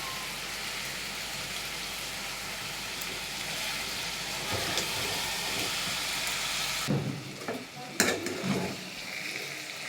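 Mutton being stirred and fried in a pan, with a steady sizzle throughout and louder scraping stirs toward the end.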